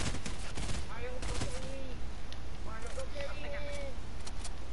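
Bursts of gunfire crackle in a PS4 shooter game, rapid shots clustered early and scattered later, with a voice chatting over the action and faint whistling tones weaving through.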